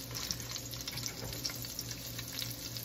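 Shrimp meatballs frying in a frying pan, a steady, faint bubbling sizzle with scattered small pops and crackles, close and continuous, with no talk.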